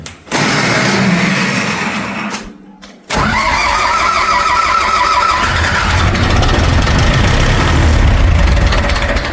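A loud tractor engine cranks, falters briefly into near silence, then catches and roars into a rough, rumbling idle that keeps running.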